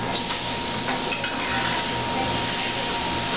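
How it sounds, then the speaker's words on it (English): Flounder fillet sautéing in a pan with lemon juice gives off a steady, even sizzle, while a faint scrape of a spatula sliding under the fish to flip it comes through partway in. No one talks. "now I am getting ready to flip my fish"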